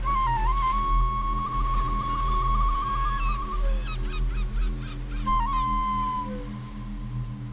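Seagulls cry near a southern right whale stranded on the shore at Valdés, giving several loud, wavering calls in quick succession with short honking notes over a steady low rumble.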